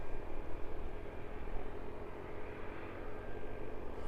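Aircraft at East Midlands Airport heard as a faint, steady engine roar with a broad hiss that holds level throughout, distant and unbroken.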